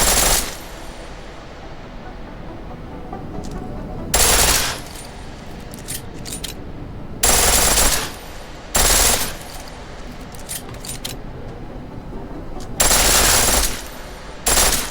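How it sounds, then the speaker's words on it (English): Full-auto pistol fire in Deus Ex: Mankind Divided comes as five short, loud bursts of rapid shots spaced a few seconds apart over a steady game background. "The pistol in full auto will take down targets fast, but it'll burn through your ammo"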